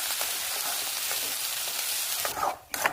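Ground masala paste frying in hot oil with ginger and garlic, making a loud, dense, continuous sizzle that briefly dips and flares near the end as it is stirred.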